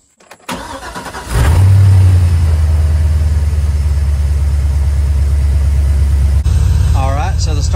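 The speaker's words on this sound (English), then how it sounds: "now start engine." A car engine cranks and catches during a battery tester's starting test, then settles into a steady, loud idle that runs to the end, with a brief chirp of tester beeps near the finish.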